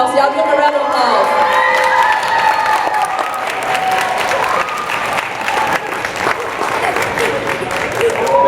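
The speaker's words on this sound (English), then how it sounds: "Y'all give them a round of applause" A crowd at a Hog Hunters for Hope outdoors fundraiser applauds and cheers for visiting Georgia Dogs players, loud sustained clapping with whoops and children's shouts mixed in, voices carrying over it.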